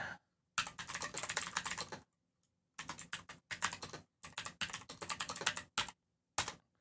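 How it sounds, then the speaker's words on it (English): Bursts of typing on a computer keyboard, rapid clattering keystrokes in several runs separated by short pauses, close and fairly quiet with no talking. "There's a little typing for you, Maximo"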